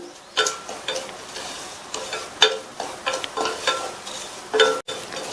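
Semolina roasting in ghee in a pan over a low flame, stirred with a spoon: soft scraping strokes in a steady rhythm with light clicks against the pan, close and fairly quiet.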